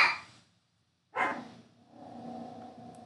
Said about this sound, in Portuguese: minha cachorrinha está dando as as o tchau para vocês.